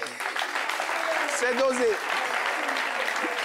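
Audience applause in a hall, steady and loud throughout, with a person talking over it.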